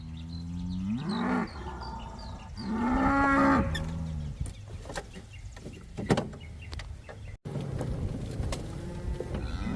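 A herd of cows gives several loud, drawn-out moos close by, one after another, followed by rustling and scattered outdoor noise.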